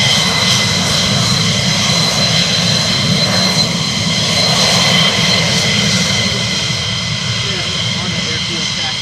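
Military jet aircraft at RAF Lakenheath taxi onto the runway, a loud continuous engine roar with a steady high whine, heavy and sustained throughout, with voices talking underneath.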